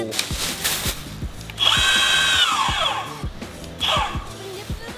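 Boosted 2 electric skateboard motor whining as it revs up under throttle, a loud rising-and-falling electric whir that sweeps down in pitch, followed by a shorter second rev, over clicks and handling noise.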